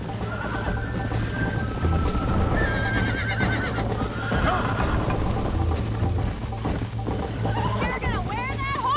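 Horses neighing and whinnying in the Red Dead Redemption video game, loud and close over steady galloping hooves and a droning background hum, with several whinnies rising near the end.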